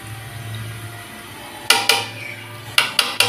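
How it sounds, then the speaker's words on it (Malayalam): Stirring chicken mandi in a metal pot: a few sharp scraping clanks of a spoon against the pot in two short clusters, fairly close, over a steady low hum with no talking. "ചെറുതായി ഇളക്കി കൊടുക്കുക."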